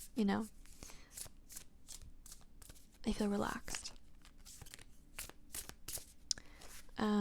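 Tarot cards are shuffled by hand in repeated bursts of crisp riffling and flapping, close and quiet, with a soft voice speaking in between.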